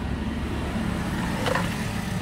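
A Ford Ranger's engine idles with a steady, even low hum at constant volume, with a brief faint click partway through.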